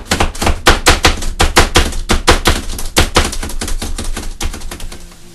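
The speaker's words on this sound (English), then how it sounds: "you can finely dice up your onion and your garlic" A knife finely dicing onion and garlic on a cutting board for cabbage roll stew, rapid loud rhythmic chopping taps in a steady stream, slowing slightly toward the end, close up with no talking.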